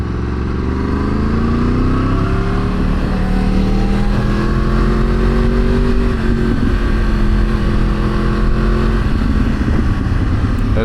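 A Yamaha R1 sport motorcycle ridden in -1°C cold near Hamburg Harbor: a loud, continuous engine drone whose pitch climbs and falls with the throttle, buried in heavy wind rush the whole time, with no talking.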